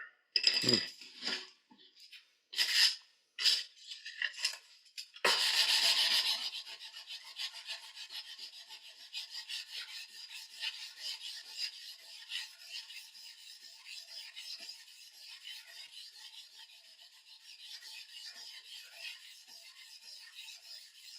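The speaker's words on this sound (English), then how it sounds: "You might see me sanding a little more on the base side." Irregular scraping knocks at first, then a steady, sustained rasping rub of sandpaper on a wooden guitar fingerboard, close and continuous with no talking.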